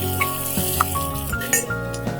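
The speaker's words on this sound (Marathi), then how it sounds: "आणि 4-5 मिनिटं त्याला पण चांगला आपण परतून घेऊया" Onions sautéing in a pan for Konkani pithi bhat make a steady, close sizzle and crackle, with a few brief pops and stirring sounds throughout.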